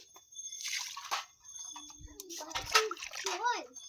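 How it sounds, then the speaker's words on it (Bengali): Rice water is poured from a container onto potted plants, including a night-blooming lotus, with splashing and dribbling water as people talk nearby. "এই যে চালের জল এই যে গাছগুলোই দিচ্ছি"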